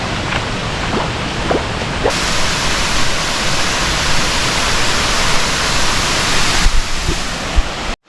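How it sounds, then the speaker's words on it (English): A loud, steady roar of water pouring down at a hidden waterfall in Bali, with a broad hiss that holds unbroken throughout and no voices over it. "so here I am at the waterfall"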